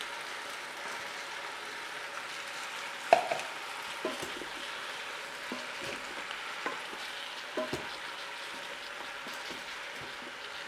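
Mushrooms tumble into a pressure cooker pot and sauté with a soft, steady sizzle, broken by a few clattering stirs and scrapes spaced through the stretch; nobody talks.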